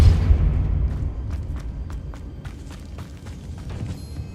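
A Depulso spell cast in Hogwarts Legacy sets off a heavy low thump. A rumbling tail follows, with a series of sharp, evenly spaced ticks and clacks that carry on behind it at moderate loudness.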